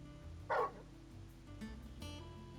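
Torgal, the wolfhound companion in Final Fantasy XVI, gives a single short, fairly loud bark over quiet ambient game music and background tones.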